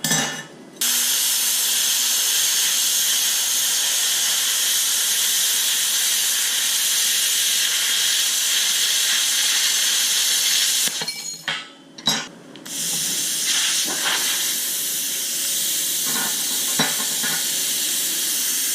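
A cutter slices through 1/8 inch steel plate on a welding table build, giving a loud, steady hiss that runs almost unbroken for long stretches, briefly cutting out and restarting partway through, with faint clinks over the rushing noise.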